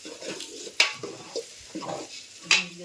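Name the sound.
onion and capsicum frying in oil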